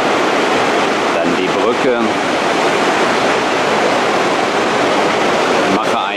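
Latefossen waterfall near Odda, Norway, a 165-metre drop, roaring as a loud, steady broadband rush that fills the whole stretch, while someone speaks briefly over it.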